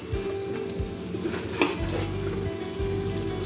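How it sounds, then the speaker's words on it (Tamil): Eggs are stirred into a pan of sautéed onion masala for egg biryani. A close, steady sizzle carries repeated rhythmic scrapes of a spoon against the pan, plus one brief sharp crackle. "இப்போ இந்த முட்டை இதில் சேர்த்துக்கலாம். முட்டை உடஞ்சி போயிடாமல் கிண்டிக்கோங்க"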